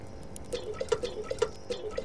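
Water splashes and trickles in a quick run of small drips and pours while being emptied out in the survival game Subsistence, faint and close with no talking.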